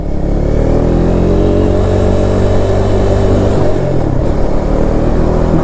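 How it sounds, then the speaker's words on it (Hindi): A KTM RC 390 motorcycle fitted with an aftermarket exhaust idles loud and close with a deep, throbbing engine note, swelling slightly as it is revved. "भाई ने एग्जॉस्ट लगाया हुआ है तो काफ़ी खतरनाक आवाज़ कर रहा है।"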